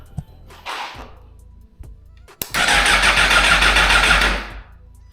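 A wrecked 2022 Suzuki GSX-R1000R motorcycle cranks without firing: a couple of brief starter attempts, then a sharp click and a loud, steady churning whir of the starter for about two seconds before it stops.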